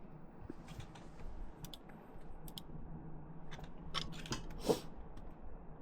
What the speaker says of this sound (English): this is my new keyboard from Be Quiet Dark Mount